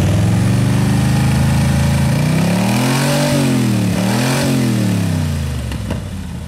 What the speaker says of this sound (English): Nice and quiet with those homemade headers on there.